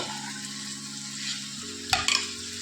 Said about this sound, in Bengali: সব মটরগুলোকে দিয়েও কষিয়ে নেবো